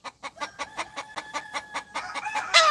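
Chickens cluck in a quick, regular series of short calls close by, ending in a louder squawk.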